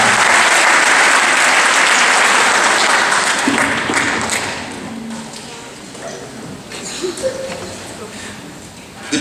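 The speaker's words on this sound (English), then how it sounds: "Feel free to clap at any time." A concert audience applauds loudly at a storybook concert, a dense burst of clapping that gradually thins and fades over several seconds.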